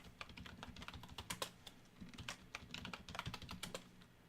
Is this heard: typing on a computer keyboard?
yes